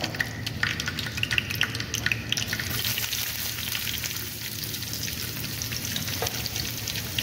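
Mustard seeds frying in hot oil for Kerala-style rasam, a dense, close crackle and sizzle with rapid popping throughout and stirring scrapes beneath.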